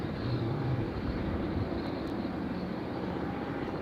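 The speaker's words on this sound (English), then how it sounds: "I can hear a helicopter, I just can't see. Oh, it's right over my head." A steady, loud engine drone from an aircraft passing overhead near Dusseldorf airport, holding a constant rumbling roar with no talk throughout.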